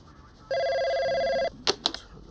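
A single electronic telephone ring sounds for about a second, loud and close, followed by a couple of short clicks or knocks.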